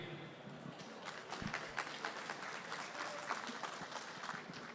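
An audience at a rural credit and debt lecture applauds the speaker, a steady, fairly quiet patter of many hands clapping at some distance in a hall.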